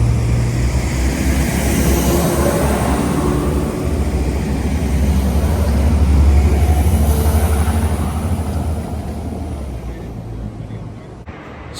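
A train at Lambeg station in Northern Ireland rumbles with a low, steady engine drone that swells midway and then fades away.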